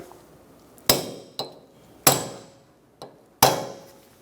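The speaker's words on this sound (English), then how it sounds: "Remove your punch. Stake the axle nut." A hammer strikes a metal punch five times at uneven intervals, each blow a sharp, ringing metallic clank, staking the front axle nut on a 2012-2020 Chevrolet Sonic. The three heavier hits ring out longer than the two lighter taps.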